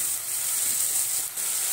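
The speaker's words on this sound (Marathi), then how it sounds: "आपण एक मध्यम आकाराचा टोमॅटो कापून घेतलेला आहे, तोही आपण त्यामध्ये परतून घेऊ।" Chopped medium tomato sautéing in a pan for paneer bhurji, a steady soft hiss and sizzle with faint scraping, close and continuous.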